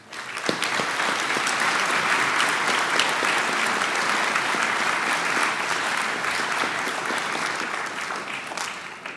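Sustained applause from an awards night audience for new Honor Society members, dense clapping holding steady for several seconds before tapering off at the end.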